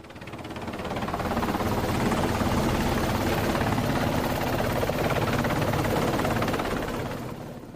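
Helicopter descending onto an aircraft carrier deck, its rotor and engine roar loud and steady throughout, swelling in at the start and easing slightly at the end.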